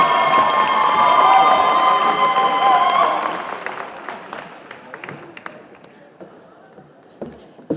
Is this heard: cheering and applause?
yes